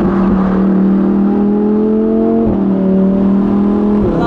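A Lamborghini Huracan EVO Spyder's naturally aspirated engine revs loud and close, a sustained rising howl with two brief dips where the pitch drops and climbs again, like quick gear changes.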